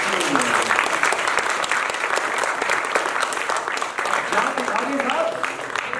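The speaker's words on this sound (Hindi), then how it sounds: "इसकी प्रस्तुति से पहले ताली बजाइए" Audience applauding at a theatre festival before a Hindi play, dense steady clapping that stays loud and even for the full stretch.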